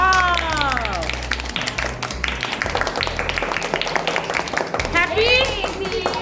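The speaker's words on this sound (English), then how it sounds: "Clap. All of you clap." Children clap together during a school sandwich-making activity. The claps are quick and uneven, and they run the whole way through under loud, excited children's voices and a low hum.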